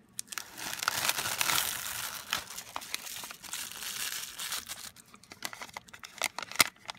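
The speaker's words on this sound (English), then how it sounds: "And then I'm going to peel that apart." Adhesive sheet on a glow-in-the-dark Halloween card, with a small, detailed spider cut-out, peeled apart slowly: a dense, crinkly crackle for about five seconds, fading into a few quieter, sharp ticks.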